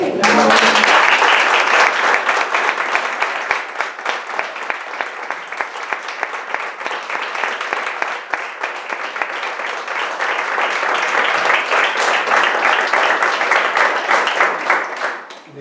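A hall audience breaks into sustained applause, dense and loud clapping that holds steady for about fifteen seconds before tapering at the end.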